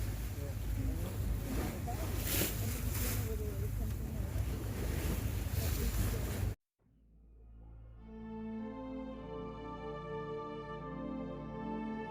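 Expedition ship crossing the Drake Passage toward Antarctica, with roaring wind and ocean surf for about six seconds, then an abrupt cut to quieter, steadier layered sounds.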